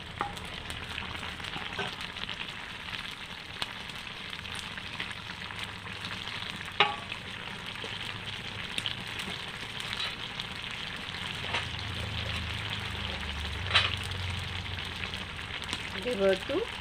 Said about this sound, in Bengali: এখন এতে দিয়ে দেবো মাছ কড়া